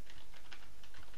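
A command being typed on a computer keyboard, with quick, close clicks of keys pressed in a steady run.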